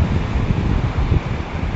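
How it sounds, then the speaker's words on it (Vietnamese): Strong wind roars steadily through a forest of small trees, a dense, gusting rumble that stays loud and close for the whole moment with no voices. "Quá trời gió."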